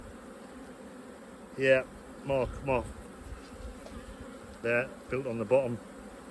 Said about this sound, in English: There's a number of bees in there.